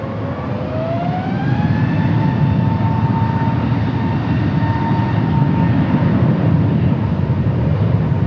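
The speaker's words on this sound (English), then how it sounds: "Another Frontier A320 Neo." A Frontier Airbus A320neo jet airliner at Los Angeles LAX airport produces a loud, steady engine roar with a rising whine that settles into a sustained tone, heard close and alone without talk.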